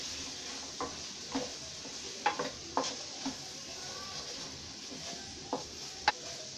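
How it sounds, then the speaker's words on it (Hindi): Pumpkin and dal curry stirred in a pan, a spoon scraping and tapping at irregular intervals over a faint low sizzle, quiet and close with no talk. "और अब इसे अच्छे से मिक्स करेंगे"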